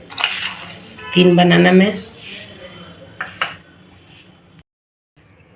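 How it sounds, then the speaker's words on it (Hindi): Spoonfuls of sugar go into a bowl of bananas for a banana milkshake, with spoon clinks and scraping against the dish as a person talks over it, followed by quieter taps. "हम 4 चम्मच चीनी डाल रहे हैं"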